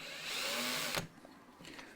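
Power drill boring a screw hole into a guitar body during an offset guitar setup, a steady whirring drone for about a second that rises in pitch, then cuts off sharply, leaving faint workshop noise.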